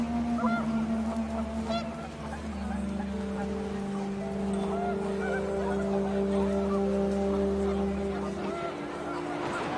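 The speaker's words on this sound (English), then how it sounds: "panicked geese appeared and quickly went" Geese honk in the What Remains of Edith Finch video game, a steady chorus of horn-like calls lasting several seconds under a layer of narration. Wind or ambient noise fills the background.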